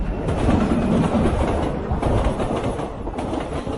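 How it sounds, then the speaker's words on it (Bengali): A speeding train rumbles close and loud, its wheels keeping up a steady clickety-clack over a heavy, continuous roar, used as a sound effect in a horror audio story. "ট্রেনের গতি যেন মানুষের মৃত্যুর চেয়েও অধিক ঝংকার তুলে ধাবিত হয়ে চলেছিল"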